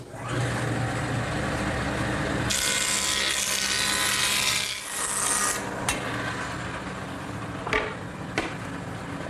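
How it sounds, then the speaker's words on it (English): A woodworking jointer straightens board edges with a loud, steady motor roar. Its pitch rises as the cutterhead bites the wood, and then the machine winds down with a few knocks. "I'm going to straighten the edges on my joiner."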